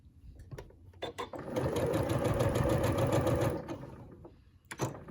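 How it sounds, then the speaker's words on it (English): A sewing machine stitches a quilt binding with a rapid, steady mechanical whir lasting about two seconds, with softer handling clicks and thumps before and after. "And now I sew on that blue line."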